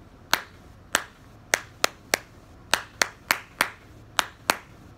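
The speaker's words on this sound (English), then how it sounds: "One, two, three, four, one, two, three, four, while clapping that rhythm" Single pairs of hands clap a practiced rhythm, about a dozen sharp, dry claps in uneven groupings, close and clear against a quiet background.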